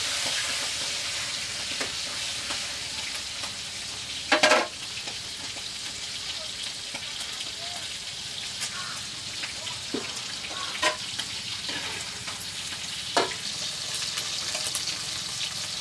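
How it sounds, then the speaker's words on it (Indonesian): Snails sizzle and fry in hot oil in a pan while being stirred and turned, a steady crackling hiss with a few sharper scraping clicks from the utensil; no talking. "Ini goreng sampai garing bola ya."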